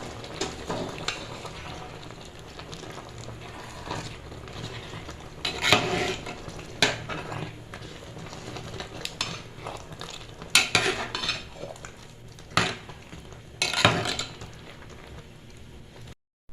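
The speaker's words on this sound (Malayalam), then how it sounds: "ഇനി ഒന്ന് ഇളക്കി കൊടുക്കാം" Metal utensil scraping and clinking against a pot as thiruvathira puzhukku, a Kerala tuber and bean dish, is stirred, with intermittent sharper knocks over a soft background sizzle.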